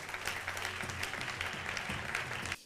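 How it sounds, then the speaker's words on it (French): A church congregation bursts into sustained applause in praise of the Lord, dense steady clapping from many hands filling the room, with a faint voice or two mixed in before it cuts off abruptly. "Oui, on peut acclamer le Seigneur."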